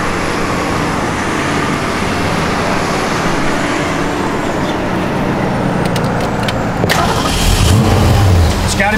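The engine of a 1966 Ford Mustang convertible with a Tremec transmission rumbles loud and close, then swells in a rougher surge near the end.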